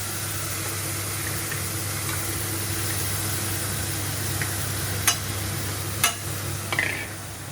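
Masala gravy fries in oil over a full gas flame, giving a continuous even sizzle with a low steady hum beneath it and a few brief sharp clicks toward the end.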